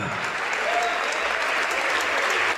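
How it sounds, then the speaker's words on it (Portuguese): A church congregation applauds during a worship service, a continuous wash of many hands clapping together at steady loudness, with a voice faintly audible beneath it. "Recebe as palmas de todo este povo que te glorifica."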